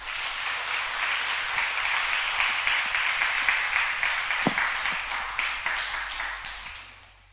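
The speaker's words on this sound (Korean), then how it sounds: "박수 한번 쳐주세요" Steady applause from a church congregation during a missionary report service, a dense wash of clapping that holds evenly for several seconds before tapering off.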